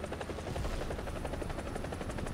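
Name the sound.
attack helicopter in a video game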